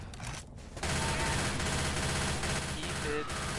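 A dense, continuous barrage of gunfire in Left 4 Dead 2 surges in after a brief dip and holds steady to the end, mixed with game noise at moderate loudness.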